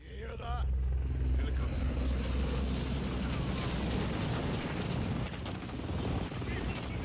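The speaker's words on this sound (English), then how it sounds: "Helicopter." A helicopter's rotor thumps steadily beneath a dense Call of Duty: Modern Warfare II battle soundscape of gunfire and rumbling, with voices calling out over the noise.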